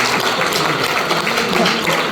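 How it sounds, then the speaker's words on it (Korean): A church congregation claps steadily in celebration during a Korean Sunday service, a dense, continuous, loud patter of many hands filling the room without pause. "우리 입주하셔서 한번 축하 박수 해주시죠"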